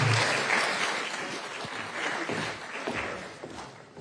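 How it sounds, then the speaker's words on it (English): A large conference audience claps steadily in sustained applause for a panel at a freedom forum, with the dense clapping fading slightly toward the end and no speech over it. "How about a round of applause for our distinguished panel?"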